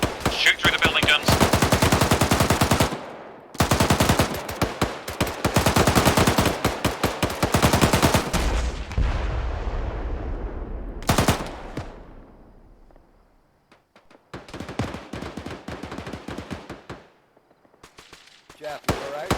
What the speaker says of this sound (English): Shoot through the building guns.